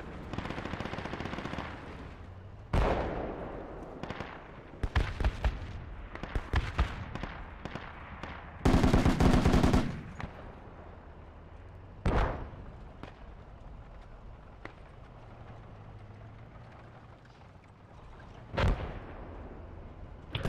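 Mortar and gunfire in a multiplayer shooter video game, sharp broadband bangs and a brief dense burst scattered irregularly across the clip, some loud and close, others fainter, over quiet background.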